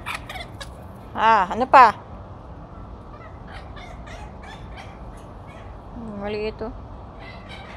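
Fighting roosters bred for cockfighting crow in a few loud nearby bursts, two close together early and another later, with people talking in the background throughout.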